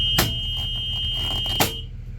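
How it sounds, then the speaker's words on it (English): The emergency exit window buzzer on an air-brake school bus sounds a steady loud tone for over a second and a half, with a thud from the window at start and end, close and alone. "we're going to check and make sure that beeper goes off, which it does"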